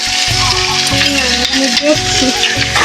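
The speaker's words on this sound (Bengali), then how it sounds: "দেখতে পাচ্ছ এখন রান্না চলছে এই সোয়াবিন এই আলু" Soybean chunks and potato cook in a pan with a loud, continuous sizzle, broken by repeated stirring scrapes in an irregular rhythm, close up.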